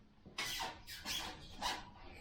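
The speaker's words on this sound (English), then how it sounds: "Squeaky bushing. she's a little squeaky, but it'll be all right." A squeaky suspension bushing on a CrossKart with newly fitted shocks and custom shock tower squeals three times in a slow rhythm as the kart is rocked, close and fairly faint with no talk.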